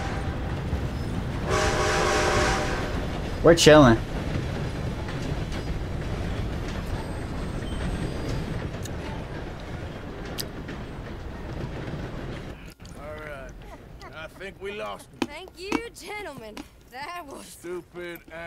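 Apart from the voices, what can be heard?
train passing in a video game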